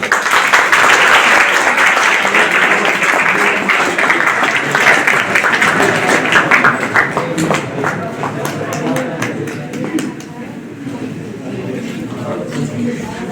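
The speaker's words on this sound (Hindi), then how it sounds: "आप सभी तालियों से स्वागत करें" Audience applause at a girls' college seminar event in Mahripur, dense clapping filling the room for a long stretch and gradually thinning toward the end, with voices talking over it.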